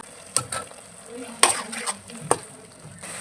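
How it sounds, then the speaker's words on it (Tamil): Tomato masala sautéing in oil for a Tamil mutton curry, a soft sizzle under a few sharp spatula scrapes and clinks against the pan, close and fairly quiet, with no talk. "இப்போ நல்லா வதங்கிடுச்சு ஆயிலெலாம் பிரிஞ்சு வந்துட்டு பாருங்கள்"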